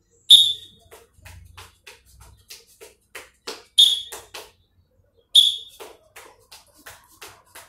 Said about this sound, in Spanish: Cuando suene el silbato, vas a empezar a trotar.